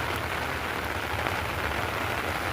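Steady rain falls on a rice paddy field during the rainy season. It is an even, constant hiss with no voices.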